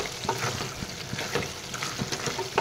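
Duck meat for a curry with potato and tomato is stirred and turned in a pan of its own released juices, giving a continuous close sizzle with soft, rhythmic scraping strokes and no voices.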